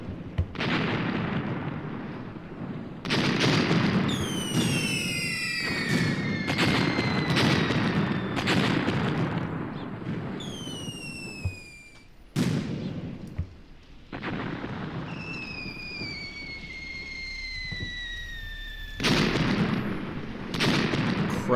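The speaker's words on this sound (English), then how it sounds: "They're doing great work with the mortars." Mortar fire in the WWII tactical game Graviteam Tactics on the Mius Front: repeated booming blasts and rolling explosions with whistling incoming rounds, dense and loud across the whole stretch.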